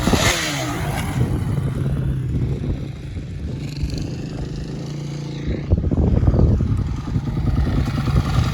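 A dirt bike with a new tyre rides around a berm, its engine droning and revving in an uneven, rising and falling tone, fairly close and loud, with no clear speech.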